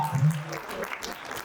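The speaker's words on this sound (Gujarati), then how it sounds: "તેજલ બેન માટે જોરદાર તાળીઓ થઈ જાય" Audience applause at a community award event rises briefly, with a short burst of clapping mixed with voices and a sustained tone at the start, fairly faint and quickly fading.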